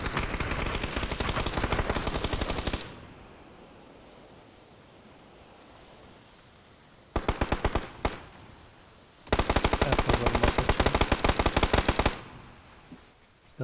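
Rapid automatic gunfire in a battle royale video game, several loud sustained bursts of shots separated by a quieter stretch of steady background noise, one short burst in the middle and a longer dense volley near the end.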